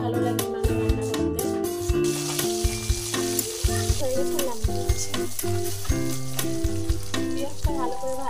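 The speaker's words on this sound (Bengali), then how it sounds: "পেঁয়াজটা ভালো করে ভাজা হয়ে গেছে" Onions fry in a pan at a steady hiss and sizzle, with stirring, partly covered by loud tonal background music.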